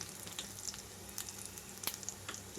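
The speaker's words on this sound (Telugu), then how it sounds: "ఇక్కడైతే చూడండి ఉల్లిపాయలన్నీ కూడా చక్కగా కలర్ మారిపోయేలాగా వేగిపోయినాయి" Onions fry quietly in a pan for a Malabar spinach dal, making a soft, steady sizzle with faint pops and crackles; no one speaks.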